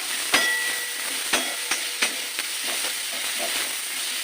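Onions and garlic fry together in a pan, producing a steady, close hiss of sizzling oil broken by a few sharp clicks and taps from stirring.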